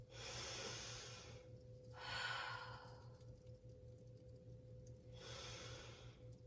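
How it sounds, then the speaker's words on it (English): Deep breathing during a yoga session: three slow, close breaths, each a soft airy rush with quiet pauses between, heard alone over a faint steady hum. "Breathe. Deep breaths."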